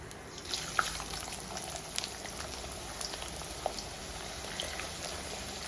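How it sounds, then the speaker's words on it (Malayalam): Ginger slices frying in hot coconut oil, a steady close sizzle and crackle with scattered small pops running throughout. "ഇത് വറുത്ത് കോരാൻ ആവശ്യമായ എണ്ണ നമ്മൾ ഒഴിച്ചു കൊടുക്കണം അപ്പോൾ നമുക്ക് ഇഞ്ചി ഇട്ട് കൊടുക്കാം"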